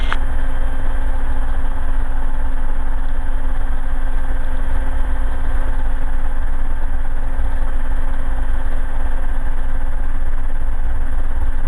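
Helicopter engine of a RotorX Phoenix A600 running steadily near Calgary, a loud continuous drone with a low throb and a steady mid-pitched hum, no pause throughout.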